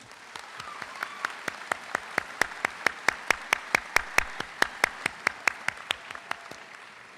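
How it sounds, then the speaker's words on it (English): Slow, evenly spaced claps ring out one at a time in a large commencement ceremony space, about four per second, each crisp and echoing over a faint background of crowd murmur. "Let's give them a round of applause."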